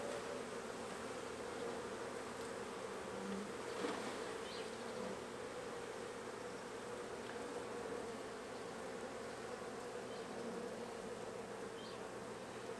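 A honey bee swarm in a hive makes a continuous, dense buzz, steady and even throughout, with no voices.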